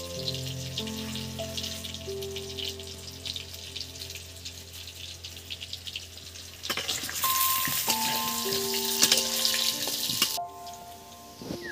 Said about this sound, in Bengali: আলুগুলো সুন্দর করে ভেজে নেওয়া যেন লাল লাল করে